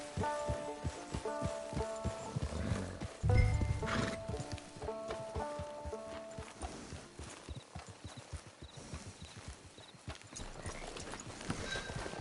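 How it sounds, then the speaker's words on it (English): Horse hooves clip-clop steadily and close in Red Dead Redemption 2, with a brief whinny and a background music score throughout. "It's your horse."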